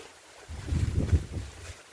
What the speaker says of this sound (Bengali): গাড়ি মানে নৌকা, এতে করেই যাবো।